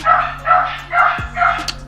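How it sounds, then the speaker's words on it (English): Dogs bark indoors in a quick run of four close, loud barks at an even pace, with a faint short yip near the end. "my dogs keep barking."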